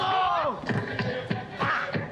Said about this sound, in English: everyone's cheering with their Corona Ceros to wrap up what's been a beautiful gathering party